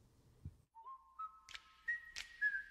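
A lone, faint whistled tune of a few rising and sliding notes, with soft breathy puffs and small clicks in between.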